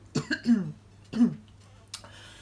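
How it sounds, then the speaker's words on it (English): A person coughs in a quick burst of three, pauses, coughs once more, then a short throat-clearing sound follows. "Oh my god, I'm still coughing."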